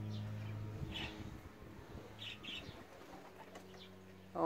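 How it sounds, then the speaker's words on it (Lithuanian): Racing pigeons returning from a 349 km race from Wyszkow flutter down onto the loft, with brief wing-flapping bursts and soft coos over a steady low outdoor hum. "Taip leidžiasi paukščius iš šiaurės krypties"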